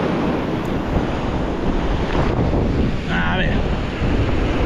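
Strong, gusty wind roars across the microphone with surf crashing on the seashore while someone fishes with light spinning gear, a loud steady rush throughout, and someone speaks briefly.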